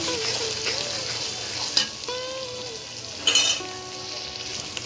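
Food sautés in a pan with continuous sizzling and stirring, while faint tonal sounds drift in the background and two sharper clatters of a utensil stand out; no talking.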